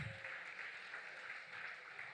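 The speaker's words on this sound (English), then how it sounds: "A round of applause for our partners. A round of applause for our faculty advisors." An audience at a national student enterprise competition and anniversary celebration claps for partners and faculty advisors, a faint, steady wash of applause heard from a distance.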